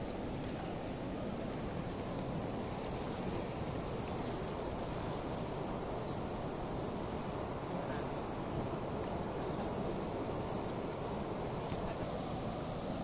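Floodwater roars through the Tumalalud dam in Mambusao, Capiz during a typhoon, a dense, continuous rushing wash held steady and loud for the whole stretch with no pauses.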